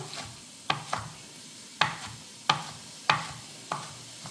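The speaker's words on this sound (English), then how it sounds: "Chop them up." A knife chops food into bite-size pieces in a home kitchen, giving about five sharp, irregularly spaced cuts against a cutting board, close and fairly loud over a faint low background hum.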